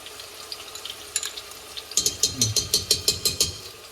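Ginger, garlic, green chili and shallots sizzle in a pan, quiet at first, then a run of rhythmic stirring scrapes starts midway, close and prominent.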